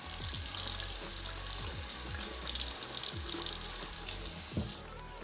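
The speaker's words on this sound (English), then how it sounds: "when we do run the water through it, all the water slides off really easily" Water from a tap running over waterproof touchscreen gloves, a steady close splashing hiss with small spattering clicks, loud and continuous until the flow drops near the end, with no talking.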